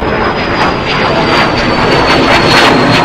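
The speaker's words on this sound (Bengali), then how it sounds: "প্লেন যাচ্ছে, দেখিছো? ওই দেখো ও উপরে" An airplane passes overhead with a loud, steady roar of engine noise that swells slightly over a few seconds.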